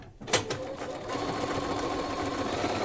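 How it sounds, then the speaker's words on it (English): A sewing machine stitches a quarter-inch seam on a padded laptop case, starting with a couple of clunks and then running at a steady, close, continuous whir with no talk. "So just stitch a 1/4 of an inch seam"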